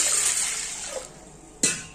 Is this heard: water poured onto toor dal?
yes